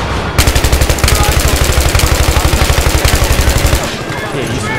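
Rapid, evenly spaced bursts of automatic gunfire in Battlefield 3 on the Operation Metro map rattle for about three seconds, loud and close, then stop.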